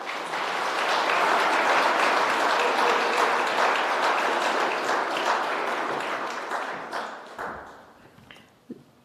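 Audience applause at the 2023 Sasol New Signatures Awards Ceremony: sustained clapping from a crowd that stays full and steady for several seconds, then thins out and fades to a few scattered claps.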